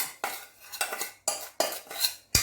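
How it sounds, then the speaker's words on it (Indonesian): A spoon stirs seasoning for steamed pork ribs dim sum in a bowl, with several sharp clinks and scrapes of metal against dish coming in quick irregular bursts. "Jadi ininya kita aduk dulu bumbunya."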